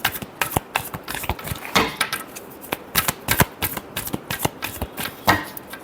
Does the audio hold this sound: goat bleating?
no